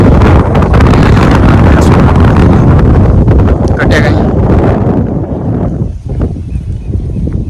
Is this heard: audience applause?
no